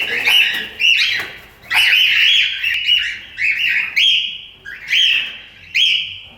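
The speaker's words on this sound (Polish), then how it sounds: "Zawsze głośne i chętne do gaworzenia nimfy." Cockatiels chirp and chatter loudly and close by, in repeated shrill bursts broken by short pauses, with no voices.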